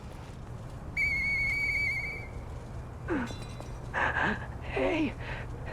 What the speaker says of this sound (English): I know that whistle.